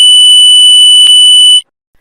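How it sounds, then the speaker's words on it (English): The built-in buzzer of a 24V multicolor LED CNC machine signal tower sounds one very loud, steady, piercing electronic tone that lasts about a second and a half and then stops abruptly. "The buzzer can reach more than 95 decibels."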